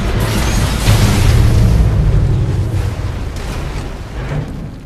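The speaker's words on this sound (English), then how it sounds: "Enemy base destroyed." A big explosion in the C&C Rivals strategy game blows up an enemy base, a loud booming blast with a deep rumbling tail that slowly fades over several seconds, heard alone.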